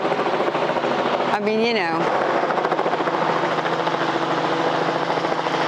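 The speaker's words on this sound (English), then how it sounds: "I'm a pretty big helicopter buff, so I find this really pretty cool." A helicopter flies over a campground, its steady rotor drone filling the background throughout while someone speaks briefly in the foreground.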